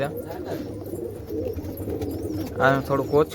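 Pigeon chicks with a watery eye problem give soft cooing and peeping calls close by, with a brief burst of squeaky chirps near the end, while a person talks over them.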